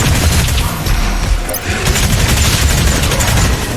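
Micro-missiles firing in DOOM Eternal, a loud, dense, continuous rattle of rapid explosive shots with booming impacts, unbroken for several seconds.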